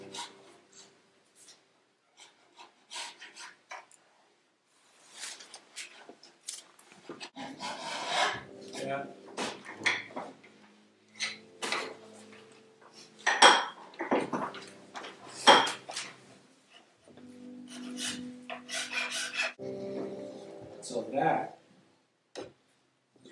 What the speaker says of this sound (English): Scrape my front.